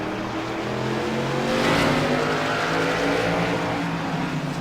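Race cars circle the oval at Langley Speedway during a CRA special event, a loud sustained engine roar swelling as the pack passes close by, with overlapping motors droning continuously over several seconds.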